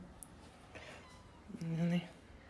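A house cat meows once, a short, fairly close call that follows a moment of quieter room sound.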